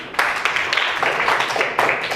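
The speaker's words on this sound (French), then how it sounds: "Applaudissez Elias." A classroom of schoolchildren claps for a classmate in short, uneven bursts of applause, loud and close, lasting about two seconds.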